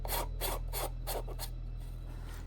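Threaded filter being screwed onto a Canon EOS 2000D kit lens, several soft, close scraping turns in an even rhythm over a steady low hum.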